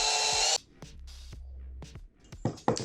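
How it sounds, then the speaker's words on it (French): A power drill bores a hole through a small round wooden disc, with a loud burst of drilling at the start followed by quieter, intermittent whirring and short scraping passes. "Et là, je viens tout simplement percer."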